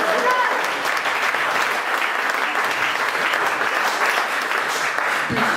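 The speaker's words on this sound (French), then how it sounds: "Applaudissez-le." Steady applause from a theatre audience at a live musical show, filling the whole stretch loud and continuous with no clear speech on top.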